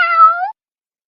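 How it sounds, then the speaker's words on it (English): A cat meows once from a Laugh and Learn puppy learning-letters toy game, a single loud, clear, close meow lasting about half a second, followed by silence. "Cat."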